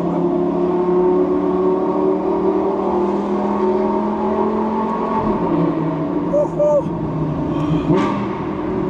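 A Lamborghini Gallardo Superleggera engine drones and revs loudly close by, its pitch shifting as it drops and climbs again, with people talking over it.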